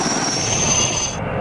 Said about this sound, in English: Fighting the fire from the air, choppers